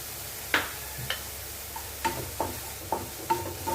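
Broccoli soup ingredients sauté with pepper in a pan under a soft, steady sizzle, punctuated by light spatula taps and clicks every half second or so, close and without talk.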